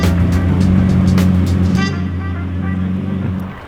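A Lamborghini Murcielago drives past close and loud, its engine droning with a rising, then fading tone and a few short clicks, the sound tapering off toward the end.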